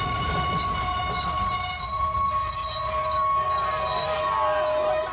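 A train brakes to a jolting stop. A loud, sustained metallic wheel squeal rises over a rumbling carriage noise and fills the whole stretch with no voices.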